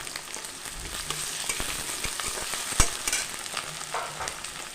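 Two bay leaves frying in hot oil in a pan, a steady close sizzle with light crackles and a few soft stirring knocks.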